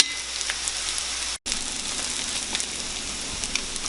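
Potato latkes frying in oil in a pan, a steady close sizzle and crackle that cuts out for an instant partway through.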